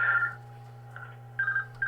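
A telephone rings at a ham radio operator's station, with short electronic ringtone bursts at the start and again near the end over a steady low hum, and no one talking.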